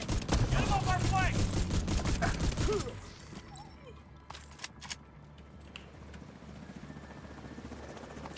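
Video game battle gunfire crackles in rapid bursts of sharp shots over a loud whirring din, then thins to scattered distant pops and softer ambience.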